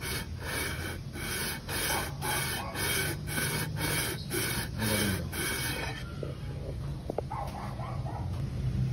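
Repeated rhythmic rasping strokes of sandpaper rubbing a surface on a 2016 Ford Fiesta engine during a top overhaul, loud and close, stopping partway with a few faint knocks afterward.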